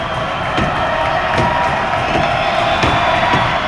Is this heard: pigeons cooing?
no